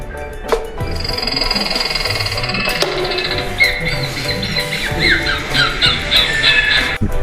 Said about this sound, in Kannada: ಅಳಿಲು ಆಮೇಲೆ ಆ ಪಕ್ಷಿಗಳು ಹೆಂಗೆ ಸೌಂಡ್ ಮಾಡ್ತಿದ್ದಲ್ಲ ಆ ಸೌಂಡನ್ನ ರೆಕಾರ್ಡ್ ಮಾಡಿ ಇಟ್ಟಾರೆ